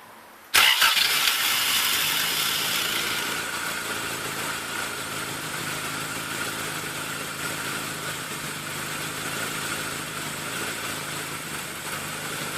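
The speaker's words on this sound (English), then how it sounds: "The fuel mixture screw adjusted, let's start the car and see what happens." Car engine with a freshly adjusted carburettor fuel mixture screw cranks and catches abruptly, then settles into a steady, fairly loud idle that holds evenly with no voices.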